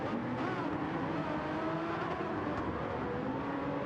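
Group C prototype race cars in Gran Turismo 7, including a Porsche, roar in a steady, unbroken engine drone with shifting pitch as they race closely together.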